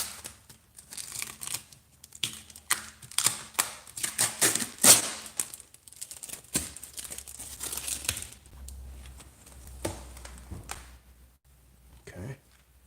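A plastic wrapper crinkles and tears as it is pulled off a new wheel during a rim swap, bursts of close rustling that thin out and stop, with someone talking between them.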